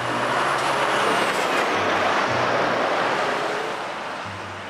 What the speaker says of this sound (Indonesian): Wah, truk towing.